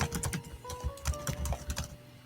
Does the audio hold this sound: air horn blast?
no